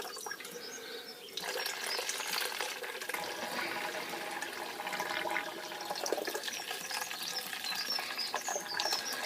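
Wort recirculated by a pump onto the grain bed during home brewing, a steady pouring, splashing gush of liquid that swells after a brief quieter start and runs on continuously.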